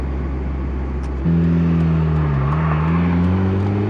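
A turbocharged Mazda Miata on a chassis dyno at high boost: a steady low engine drone jumps to a loud, sustained rev that holds and climbs in pitch with a brief dip, close and continuous, with no talk.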